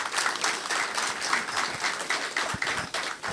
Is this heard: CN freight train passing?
no